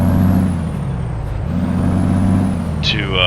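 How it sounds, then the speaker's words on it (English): A Peterbilt 389 with a Detroit diesel engine brake in American Truck Simulator gives a loud, steady low rumble that dips and swells, with a brief sharp hiss near the end. "I picked the Detroit diesel, and I'm kinda not liking how that engine brake sounds"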